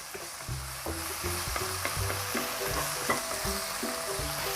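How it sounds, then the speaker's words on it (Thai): Shiitake mushrooms stir-fried in a pan for a Thai minced pork and ginger dish give a steady, close sizzle broken by repeated scraping stirring strokes, with no talking. "เราก็จะผัดเห็ดหอมนะคะให้สุกนะคะ"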